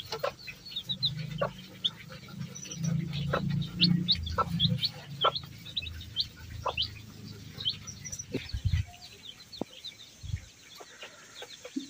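Country hens and chicks in a coop, with scattered faint chick peeps and soft clucks over a low background rumble and scratching, continuing steadily.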